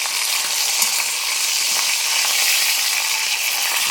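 A beef roast sears and browns in a hot pan before going into a crock pot, giving a loud, steady, close sizzle and crackle that runs without a break and without voices.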